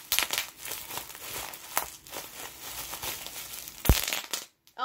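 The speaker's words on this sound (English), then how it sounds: "I have some bubble wrap left over." Leftover bubble wrap from a gift unboxing being crinkled and popped by hand, a steady stream of close crackles and snaps with a sharper, louder pop near the end before it goes quiet.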